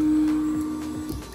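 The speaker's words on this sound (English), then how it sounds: "The printer will make an auto hum" A Geeetech A20 3D printer preheating for PLA gives off a steady mechanical hum up close, broken by a few soft clicks and whirs as its motors shift.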